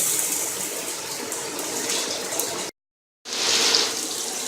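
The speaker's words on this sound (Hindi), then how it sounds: "थोड़ा पानी का छिट्टा दे दो ताकि टमाटर अच्छी तरह नरम हो जाए।" Water splashes and gushes onto tomatoes in a cooking pan for chicken karahi, a steady close hiss that breaks off for a moment, then resumes with a brief bright spatter.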